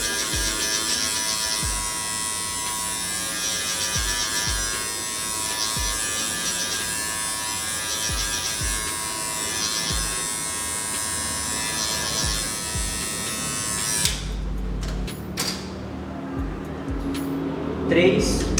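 Electric hair clippers buzz steadily and close up while cutting a mid fade haircut, switching off near the end with a few clicks and handling noises, as someone speaks.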